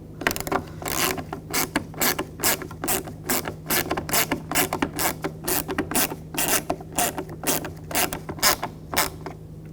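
A hand ratchet snugs down headlight bolts on a 2000-2006 BMW X5, its rapid clicking pawl coming in repeated bursts of strokes, close and crisp, with a faint low hum underneath.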